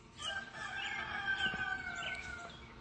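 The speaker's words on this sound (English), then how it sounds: "It's not my rooster." A rooster crows once at a distance in the early morning, a faint drawn-out call carrying over quiet outdoor background noise.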